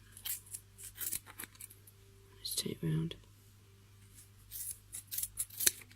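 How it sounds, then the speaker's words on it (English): Close, quiet snipping of scissors cutting yarn for a pom-pom in short bursts, with soft whispered speech partway through. "I'm going to use my scissors for this bit, I think."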